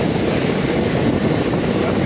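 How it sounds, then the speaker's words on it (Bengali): Loud, dense rumbling roar of a train running steadily across the Farakka bridge, a continuous heavy rush without pauses and no voices. "এবার আমরা বাই ট্রেন যাচ্ছি সেই ব্রিজ ফারাক্কা"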